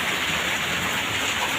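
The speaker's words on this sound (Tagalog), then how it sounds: "kuha tayo ng payong kasi may ulan" Steady rain falls close by near the sea after a typhoon, a dense, even hiss of drops without pauses, moderately loud and continuous, with no voices.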